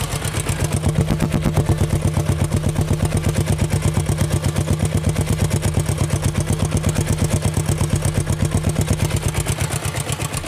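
A Royal Enfield 350 diesel motorcycle engine runs at a loud, steady, rapid thumping idle, close up and continuous throughout with no talk.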